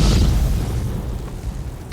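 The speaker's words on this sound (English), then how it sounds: "There are way more and bigger explosions in Action USA than anything." A big movie explosion from the action film Action USA: a loud, deep boom that hits at once, then rumbles and slowly fades over about two seconds.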